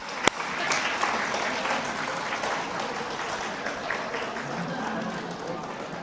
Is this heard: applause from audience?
yes